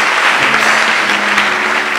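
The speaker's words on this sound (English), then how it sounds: "Let's clap for Rachel, who has accepted Jesus for the very," A church congregation bursts into steady, dense applause for a woman who has just come to faith, the clapping loud and continuous, with a faint low hum sustained underneath.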